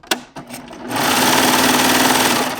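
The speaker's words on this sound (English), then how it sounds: "what I'm going to do is I'm going to start sewing" Baby Lock Triumph serger starting up after a couple of handling knocks, then stitching at a fast, steady mechanical whir and hum, loud and close.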